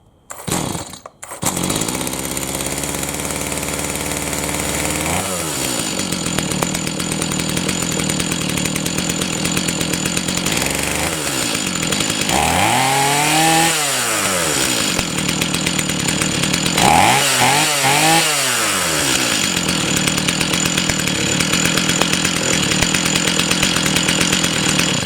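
A Stihl MS210C chainsaw starts on full choke after a pull and then runs continuously and loudly up close, its engine revving up and down several times over a steady idle drone.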